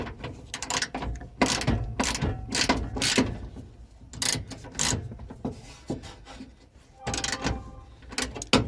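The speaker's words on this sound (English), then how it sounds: "And of course there's a nut on the back side that's just spinning away." A nut spins freely on the back side of a bolt as it is turned, producing close, repeated bursts of metallic ratcheting and rasping with short pauses between turns.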